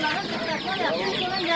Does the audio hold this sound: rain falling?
no